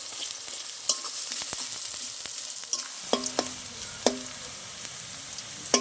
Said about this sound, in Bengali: ভালো করে একটু লাল লাল করে ভেজে বেরেস্তা বানিয়ে নেবো